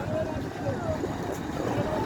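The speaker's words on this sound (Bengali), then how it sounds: "নদীর প্রচন্ড ঢেউ" Strong waves churn on the Meghna river as a small passenger launch draws close, a steady broadband wash of water and wind noise filling the clip without pause.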